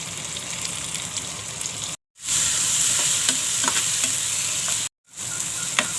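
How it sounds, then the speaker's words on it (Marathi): Tomato fries with curry leaves and onion for a dry drumstick vegetable dish, giving a steady bright sizzle with light stirring taps. Two brief silent breaks split the sound, and no one speaks. "टॉमॅटो पण चांगला भाजला आहे"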